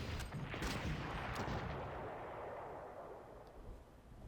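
Artillery fire in the World War II strategy game Panzer Corps, a heavy booming blast with a few sharp reports at the start that rolls and slowly fades into a low rumble.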